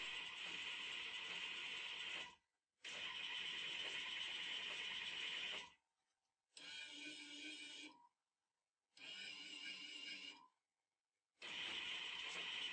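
A homemade CNC machine plots a test pattern with a pen, its stepper motors whining in bursts of several seconds separated by short silent pauses, close and steady.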